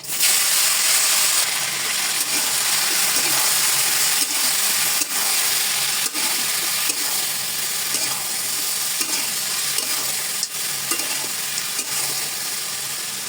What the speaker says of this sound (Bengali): এরপরে দিয়ে দিচ্ছি তেজপাতা, দুটো সাদা এলাচ আর কালো এলাচ, আর হচ্ছে দারচিনি। এটা একটু 2 মিনিট ভেজে নেব।